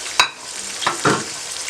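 Spices and garlic paste frying in oil for a mutter gajar aloo pulao, a few sharp stirring scrapes and bursts over a steady close sizzle.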